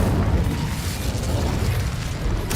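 An Incendio fire spell goes off in a Hogwarts video game, a loud, continuous rumbling whoosh of flame with a sharper burst at the very end.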